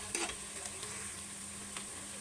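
Spices sizzle steadily in hot oil in a pan, the turmeric powder just tipped in over frying onion and cumin paste, with a few light stirring scrapes across a soft, continuous hiss.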